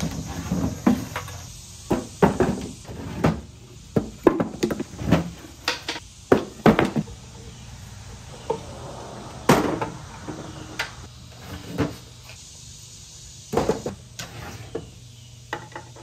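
Wooden dresser being taken apart as its drawers and hardware are removed: scattered knocks, clunks and sliding scrapes at irregular intervals, close by, with quieter stretches between bursts and no talking.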